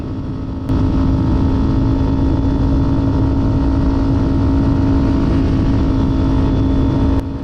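Kawasaki Ninja 400 motorcycle engine droning steadily while riding, a strong constant tone with road and wind noise, loud and close, starting and stopping abruptly, no voices.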